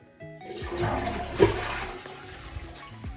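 A toilet flushes after water is poured into its cistern by hand from a 5-litre bottle, in a house under construction in a village; a short rushing surge of water that swells, then drains and gurgles away, fairly close.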